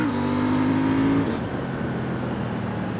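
A KTM Duke 790 motorcycle engine drones loudly and steadily while riding, its pitch holding high and then dropping slightly as it shifts gears through a quickshifter.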